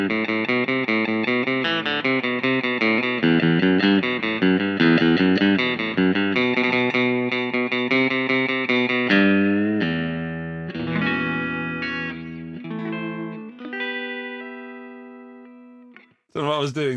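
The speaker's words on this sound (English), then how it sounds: "I don't think that's the biggest reverb spring I've ever heard" An electric guitar plays chords and notes through a Boss Katana-Mini X amp with a splashy spring reverb that lingers and rings out as the playing thins, ending in a brief crash.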